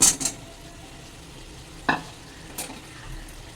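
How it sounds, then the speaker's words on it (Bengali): Soft frying sizzle in a pan as fried cauliflower and potato pieces are added and stirred with spices, with a few sharp scrapes and clinks of a utensil, close by and mostly quiet between strokes. "এবার দিয়ে দিচ্ছি এই ভাজা ফুলকপি আর আলুগুলো"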